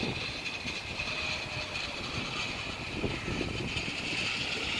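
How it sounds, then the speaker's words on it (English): An Intercity train rolls past on a model railway layout, a Welling and District circuit. The steady whirring rumble stays at an even, moderate level and has no talk over it. "Intercity coming back round again."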